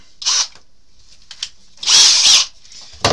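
A power drill bores screw holes in an RC car body in short bursts: a brief whir, a quiet pause, then a longer, louder drilling run and a final short start, close to the listener.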